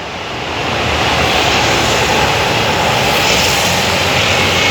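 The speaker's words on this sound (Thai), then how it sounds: "เครื่องยนต์ MTU มาแล้วครับ ขบวนรถเร็ว ขบวนที่ 112 นะครับ" An MTU diesel locomotive hauls rapid train 112 toward Bangkok Aphiwat, its loud, steady engine roar swelling in as it approaches and holding at close range without talk.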